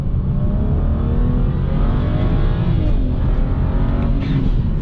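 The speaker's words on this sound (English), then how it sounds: "you can really hear the turbos cranking up" A turbocharged car with a Stage 2+ E40 tune roars steadily under hard acceleration, loud and close, with a continuous whirring of the turbos spooling, a rising drone and no talking.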